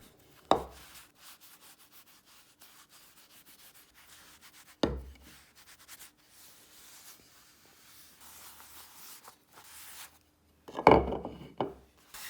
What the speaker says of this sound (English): Then I buff off the mix with a clean rag